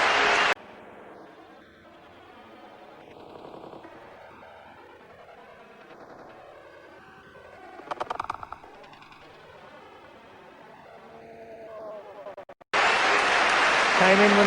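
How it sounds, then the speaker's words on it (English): A short burst of applause opens, then a commentator talks over crowd murmur before loud, sustained clapping breaks out at the end. "A generous round of applause, standing ovation to the outer"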